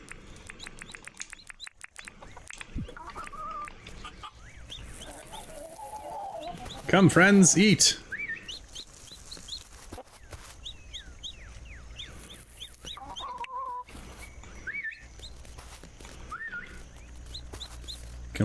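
Chickens cluck and chirp at a feeder in the farming game Mangrove Isle, a busy mix of short calls and tweets with a loud burst partway through, under spoken commentary.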